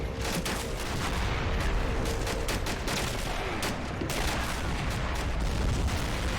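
Dense gunfire and explosions in the Army Men of War toy soldier strategy game, a continuous loud barrage of overlapping shots and blasts across the whole clip, with no speech.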